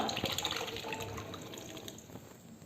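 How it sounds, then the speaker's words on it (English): Cooked instant chana and water poured into a pot of spice paste, a steady liquid splash and trickle throughout, close and moderately loud. "I am going to add the cooked instant chana into it along with the water."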